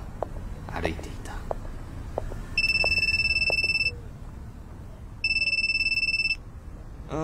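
Electronic telephone ringtone sounding in two long bursts over quiet city street ambience with faint footsteps and background chatter, before a person answers.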